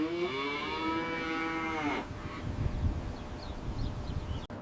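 Cattle on a farm supplying a beef jerky operation let out one long, loud moo with a clear rising-then-steady tone lasting about two seconds, followed by low rustling and shuffling farmyard noise.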